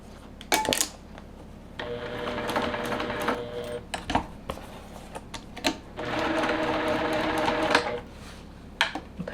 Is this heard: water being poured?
no